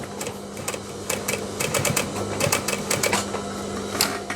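A sewing machine stitching the collar of a denim jacket, a steady rapid mechanical clatter with a low running hum underneath, close and continuous.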